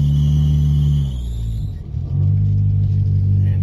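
A steady low engine drone inside a moving 1996 Eagle Summit all-wheel-drive car, the pitch shifting as the engine eases off briefly and then pulls again.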